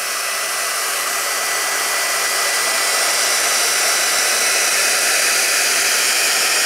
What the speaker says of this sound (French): Donc là, ça sèche et en même temps, ça me lisse les cheveux.